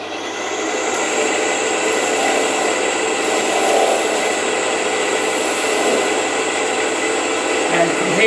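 A steady, continuous whirring hum from a woodturning lathe as a tool cuts away a section of an off-centre pepper mill lid, held in a Vermec multi-centre chuck. The drone is even and unbroken throughout with no talking.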